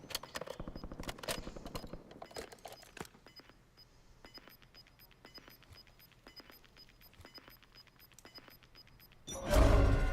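Gunfire in Call of Duty Warzone at Verdansk: rapid clusters of sharp shots open the fight, followed by sparse scattered cracks and a sudden loud blast at the end.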